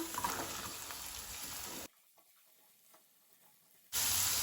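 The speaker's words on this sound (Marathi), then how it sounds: "आता हांव घालता कांदो। हे हांवें 2 कांदे बारीक चिरून घेतल्या, ते घालता।" Finely chopped onions hit hot oil for Goan prawn chilli, giving a loud sizzle that drops out for about two seconds and then bursts back in just as strongly.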